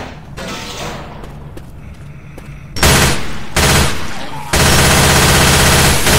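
A machine gun fires in Left 4 Dead 2, loud close bursts of rapid automatic gunfire that start and stop, growing into a sustained continuous stream of shots.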